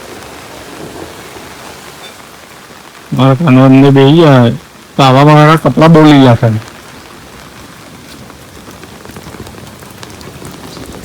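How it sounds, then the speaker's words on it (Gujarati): Heavy rain pours in a steady, dense hiss throughout, and a person talks for a few seconds over it in the middle. "જોરદાર વરસાદ ચાલુ છે."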